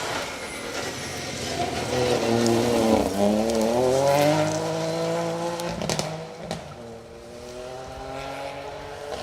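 A Ford Fiesta rally car on a stage of the Trackrod Rally, engine revving hard and rising and falling through gear changes as it passes, loud and sustained before fading slightly.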